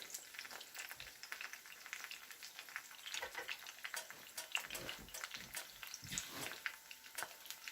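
Food frying in a covered pan with a dash of Tabasco sauce, steady crackling sizzle with scattered sharp pops and splatters throughout, close and moderately loud with no talking.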